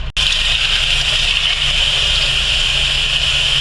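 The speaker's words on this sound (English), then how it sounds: "And now you're going to add enough water to cover the potatoes." Tap water running steadily into a cooking pot to cover potatoes for a Greek-style beef stew, a continuous close hiss and gush with a faint low hum beneath, no talking.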